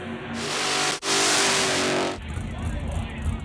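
Drag racing cars at the Route 66 Nationals roar loudly past, engines revving hard with a brief dip before a second surge, then a rumbling fade against crowd and track noise.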